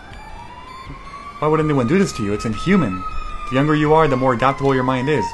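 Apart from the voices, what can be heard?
sirens in the background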